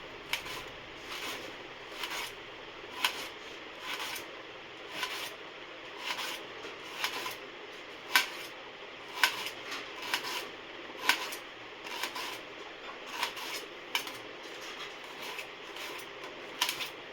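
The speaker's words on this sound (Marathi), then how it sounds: "बाबा आता कांदे कापतो कचाकच कचाकच" Onions are chopped with a knife in quiet, rhythmic rasping cuts repeating about once a second, faint and close with a soft background hiss.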